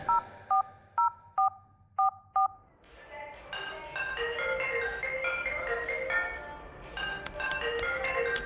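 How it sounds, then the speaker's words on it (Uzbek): A phone number is keyed in on a telephone keypad: six quick, evenly spaced DTMF beeps, close and clear, after which a music bed takes over. "telefon raqamiga qo'ng'iroq qildi"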